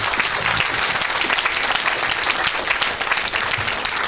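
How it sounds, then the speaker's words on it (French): A church congregation applauds loudly and continuously, a dense close wash of clapping at a worship service, steady throughout with faint voices underneath. "Acclamons très fort le Seigneur."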